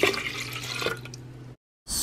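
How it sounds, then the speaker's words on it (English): Water pours into a blender, a running liquid gurgle for over a second, then a short silence before another burst of sound. "Add 1 cup of water,"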